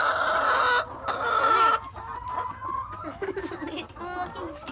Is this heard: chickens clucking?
yes